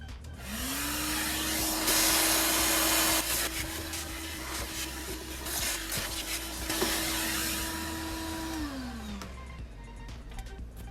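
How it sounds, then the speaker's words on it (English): A vacuum cleaner whines up to full power and runs loudly with a rushing, rattling suction as it picks up dirt and dust inside a 2007–2012 Mazda CX-7 during fuel pump replacement, then winds down. "I'm going to use a vacuum just to vacuum all the dirt that's here and the dust"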